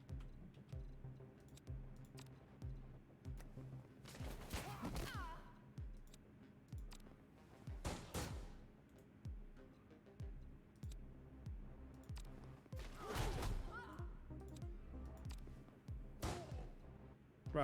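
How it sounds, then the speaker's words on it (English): Sharp gunshot blasts in the game John Wick: Hex, two loud broadband bursts around the middle and end with a couple of smaller cracks, over a quiet low game background hum. "Right, so gunshots will be heard"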